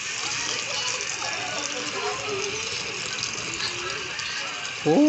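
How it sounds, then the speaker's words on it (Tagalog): Water pours into a pot of boiling wild bitter gourd dish, a steady gushing splash lasting several seconds, with a brief voice at the very end. "lagyan pa natin ng tubig"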